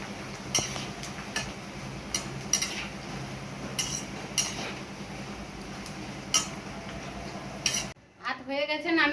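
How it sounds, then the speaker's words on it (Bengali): Papad fries in hot oil in a wok (kadai), with a soft sizzle under repeated sharp metal clinks and scrapes of a utensil against the pan, followed by a brief voice at the end. "আমি এবার এই যে লাভ পাপড় ভেজে নেব।"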